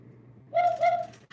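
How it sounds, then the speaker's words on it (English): An owl answers with a soft, hollow two-note hoot, brief and close, against a quiet indoor background. "she'll give me a hoot that lets me know I hear you"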